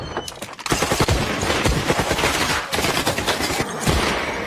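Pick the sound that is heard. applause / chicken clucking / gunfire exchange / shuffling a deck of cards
gunfire exchange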